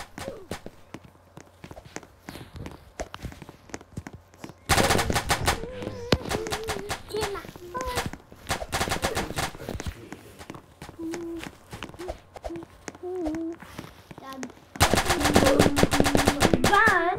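Gunfire in a Roblox war zone video game, loud bursts of rapid automatic fire alternating with scattered single shots and footsteps, and a voice talks briefly in between.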